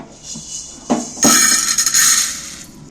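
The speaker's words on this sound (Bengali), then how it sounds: "এইবার আমি একটা বাটির মধ্যে ঢেলে নিচ্ছি সাবুটা" Dry-roasted sago pearls tumble from a hot pan into a bowl, a close rattling, clinking pour with a couple of light taps before a dense, bright cascade that trails off.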